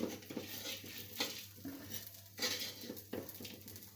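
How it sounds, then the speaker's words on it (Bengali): Stirring and frying bottle gourd in a pan while cooking: close metallic scrapes and clinks of a utensil against the pan recur in an irregular rhythm over a faint steady sizzle, with no talking. "নামাই নিয়ে লাউটা ভেজে নেই।"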